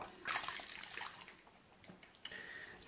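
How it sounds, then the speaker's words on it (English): A spray bottle spritzing mineral water onto hair during a close-up haircut, several short hissing bursts and drips heard up close and quietly, without talk. "It's time for some spritz. It adds some water onto your hair."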